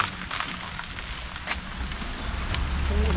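Steady rain falling outdoors in the British Virgin Islands while a car is being detailed, a continuous broadband hiss of drops on surfaces, moderately loud and fairly even, with a low hum building toward the end.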